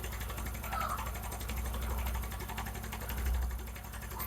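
A motorcycle engine idles just after a quarter turn of the carburetor screw, a steady close mechanical putter with a fast, even ticking beat and a slight rise in revs partway through.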